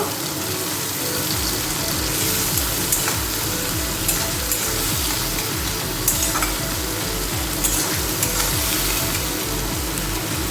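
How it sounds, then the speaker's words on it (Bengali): Onions fry hard in a hot pan, a loud, dense and continuous sizzle heard up close, with occasional stirring scrapes and no voices. "পেঁয়াজটাকে একটু লাল লাল করে ভেজে নেব"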